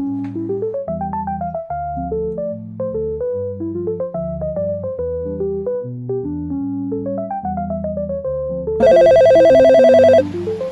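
A telephone in a hotel front office rings with a repeating electronic melody of short tones for about nine seconds, then switches to a loud, sustained buzzing ring near the end, with no voices.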